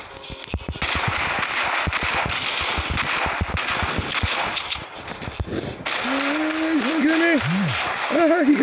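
Rapid bursts of gunfire from the Mech Arena video game, with dense repeated shots through the first half, followed by higher synthetic whooshing and warbling weapon effects near the end.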